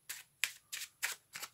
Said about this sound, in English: All you do is get a deck, give it a shuffle if you like